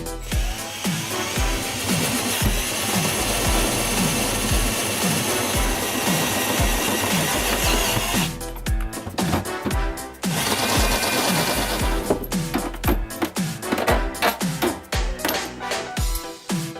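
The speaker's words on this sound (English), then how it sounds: "I'll drill all of these holes" A power drill bores a series of eyeballed holes, several loud whirring bursts with short pauses between them, close and continuous through most of the span.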